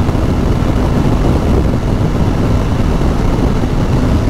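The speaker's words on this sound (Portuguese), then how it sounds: "tá um vento lateral gigantesco aqui, ó." Strong crosswind buffets a rider on a road trip through Brazil toward Bonito, a dense, steady roar of wind noise that holds constant and loud throughout with no talking.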